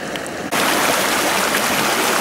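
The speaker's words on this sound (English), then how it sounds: "Close-up view of this little area of rapids." Small rapids of a shallow stream rush over a sandy bed, a close, steady broadband gurgle and hiss that starts abruptly and continues loud and unbroken with no voices.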